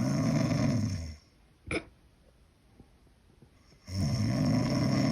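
Loud, rasping snores of a man rise and fall on either side of a quiet stretch that holds one sharp hiccup-like snort.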